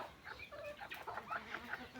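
Fayoumi chickens, an Egyptian breed, cluck softly in a short, faint run of low calls among other fowl, with no talk.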